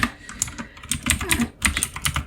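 Fast, close typing on a computer keyboard, irregular bursts of clicky keystrokes with short gaps, fairly loud and without speech.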